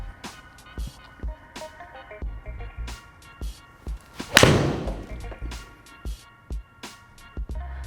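A single sharp golf shot is struck at about 4.4 seconds, measured by a Garmin Approach R50 launch monitor, rising out of a run of dull thumps and faint background clatter.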